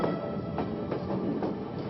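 Train rolling along the rails from Novska toward Zagreb, a steady close rumble filling the interior with regular clicking wheel joints about every half second and no voices over it.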